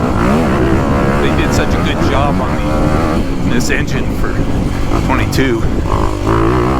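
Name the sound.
dirt bike engine revving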